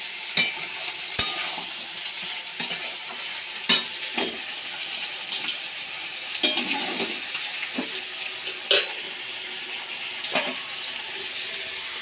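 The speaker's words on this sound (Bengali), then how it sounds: "মাছ ভাজা হচ্ছে" Small fish frying in a pan, a steady crackling sizzle broken by sharp pops and spits that come at irregular moments, heard close and alone without any talk.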